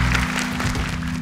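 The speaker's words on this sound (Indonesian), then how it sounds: "Boleh tepuk tangan." Brief burst of studio audience clapping during the Hafiz Indonesia 2019 television show, over a low musical hum, short and moderately loud.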